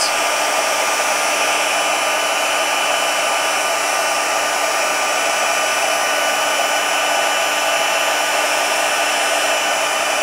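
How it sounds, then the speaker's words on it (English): Heat gun blowing hot air over a stamped card for heat embossing, a steady loud whooshing roar with a faint whine, continuous and unchanging throughout, no talking. "I love heat embossing when you can see that it's starting to change."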